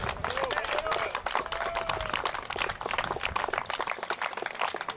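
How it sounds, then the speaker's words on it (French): Applause for François Saint-Louis, the event's organiser, at a special broadcast about the Chénier statue's return: a steady, dense round of clapping from a crowd, continuous throughout, with faint voices mixed in. "Une bonne main d'applaudissement, François Saint-Louis."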